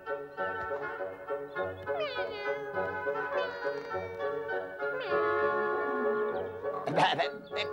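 A cartoon cat meows repeatedly in rising and falling tones over soft background music, with a sharper cry near the end.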